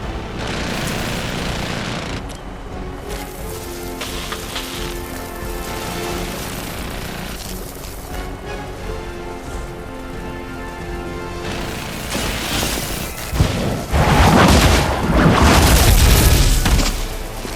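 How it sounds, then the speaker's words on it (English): Rockets pound a facility housing a highly explosive reactor in Marvel's Midnight Suns, heavy booming blasts and crashing debris rolling over a sustained roar, swelling into a dense barrage of explosions near the end. "stop the hail of rockets from slamming into the facility"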